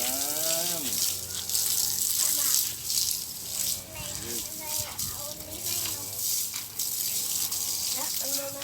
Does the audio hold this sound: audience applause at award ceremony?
no